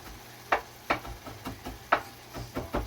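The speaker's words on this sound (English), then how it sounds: "I'm going to chop it" Cilantro being chopped with a knife on a board in a kitchen, a series of soft, irregular close taps at a quiet level, with no talk.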